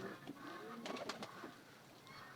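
Pigeons, King and Lakkha breeds kept on a rooftop, give a faint, distant coo amid quiet background noise, with no voices.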